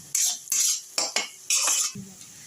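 Onion and garlic stirred in a frying pan for a Bengali prawn chochchori: four or five close, rough scraping strokes of a utensil against the pan, with no talking.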